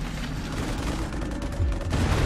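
Dense gunfire from units in the real-time strategy game Halo Wars, a steady rattling barrage with heavier bursts toward the end, loud throughout with no pause.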